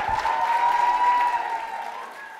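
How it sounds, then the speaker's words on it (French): Sustained applause from a standing audience at a fan convention, a dense, steady wash of clapping that fills the room, loud throughout and easing slightly toward the end, with no talk over it. "Une grosse ovation, le public s'est levé, tout le monde est debout pour acclamer les guests de ce week-end"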